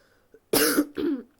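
A single loud, close cough in two harsh bursts from someone who is ill, preceded by a brief faint throat sound, then silence.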